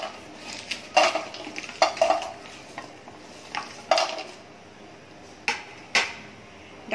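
Jackfruit seeds roast in a frying pan on the stove, with repeated sharp metallic clanks and scrapes of stirring over a faint, steady sizzle.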